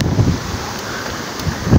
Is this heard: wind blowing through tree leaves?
yes